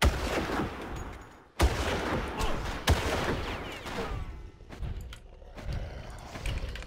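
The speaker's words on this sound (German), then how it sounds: "Ich verstehe halt nicht, woher diese scheiß Schüsse kommen." Gunfire in the first-person shooter Far Cry 1, with sharp individual gunshots and bursts of shooting cracking over a noisy battle background, separated by short lulls, loud and close.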